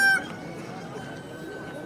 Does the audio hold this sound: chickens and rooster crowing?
yes